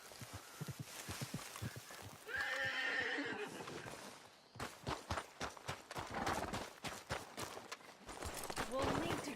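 In Red Dead Redemption 2, a horse whinnies loudly up close amid rapid clip-clopping hooves on the ground, with bursts of pounding steps and a second snort, while people talk over it.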